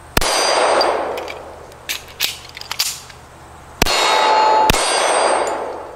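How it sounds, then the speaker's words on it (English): A Rock Island Armory TAC Ultra .45 ACP pistol fires at a range. Several sharp shots each bring a ringing metallic clang from a steel target, with the ring lingering between shots. "So let's go ahead and shoot again here quick for you."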